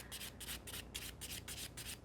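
A nail file rasps across a gel builder nail extension in quick, steady back-and-forth strokes, about five per second. The scratching is close and crisp, with no talking.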